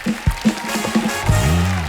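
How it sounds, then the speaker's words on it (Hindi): Studio audience applause for guests on The Kapil Sharma Show, a loud burst of clapping that swells over about two seconds and is mixed with voices and a musical tone. "एक बार जोरदार तालियां हमारे मेहमानों के लिए"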